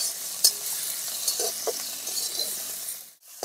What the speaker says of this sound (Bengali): টমেটোটা বেশ খানিকক্ষণ নাড়াচাড়া দিয়ে নিলাম।